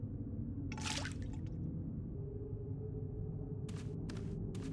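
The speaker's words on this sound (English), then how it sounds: "Wash your face in the basin." Washing the face in a water basin in the game Black Mirror, with a splashy burst of water, then a few short dripping splashes over a low steady background hum.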